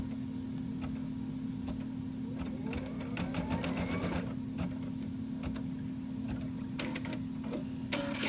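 Embroidery sewing machine stitching fabric for a face mask cover, giving a steady mechanical hum with quick ticking needle strikes that come and go close by.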